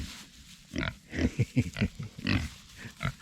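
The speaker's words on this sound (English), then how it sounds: "watching these pigs go to town on this bale" Pigs grunting and snorting close by outdoors in winter, a run of short irregular grunts and chewing noises as they feed on a hay bale.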